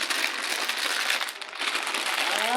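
Crinkling and crackling of a tight snack packet being worked open, a dense, steady, close rustle running throughout without speech.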